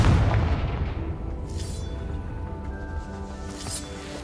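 A Confringo spell blast in the Hogwarts Legacy video game on PS5, a loud booming burst at the start that decays into a rumbling tail, with a faint second flare of crackle later.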